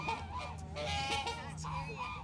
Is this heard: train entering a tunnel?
no